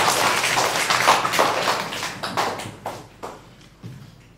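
Schoolchildren applaud to welcome a teacher from a TV station. Brisk, dense clapping starts strong, then thins into scattered individual claps as it fades out.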